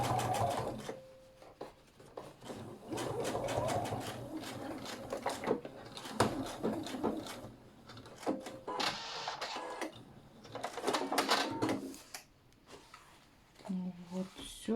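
A sewing machine stitches an overlapping seam on a denim cap made from old jeans, running in rapid mechanical bursts with short stops and fabric handling between them.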